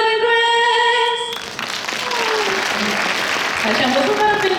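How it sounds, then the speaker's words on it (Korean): A tonal musical note from a student finger-band act at a high school admissions event cuts off, and the audience breaks into sustained applause that swells and keeps going. "다시 한번 손가락 밴드에게 큰 박수 부탁드립니다."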